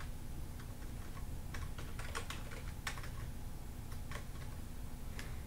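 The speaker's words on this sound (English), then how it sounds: "once you're done with typing in your text" Quick bursts of typing on a computer keyboard, soft, close clicks in irregular clusters over a steady low room hum, with no voices.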